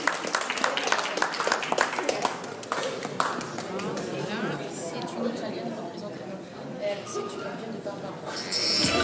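At a charity art auction, a crowd claps and chatters, a dense wash of applause with sharper claps early on that thins into murmuring voices and then swells again at the end.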